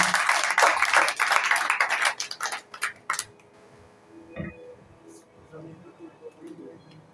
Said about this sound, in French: Nous demandons d'applaudir pendant qu'il a pas avancé pour qu'il agisse.